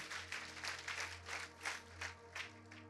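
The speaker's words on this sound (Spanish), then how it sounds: "denle un aplauso al Señor" A church congregation claps for the Lord during a Spanish-language sermon, a faint, steady wash of applause with rhythmic swells throughout, heard at a distance.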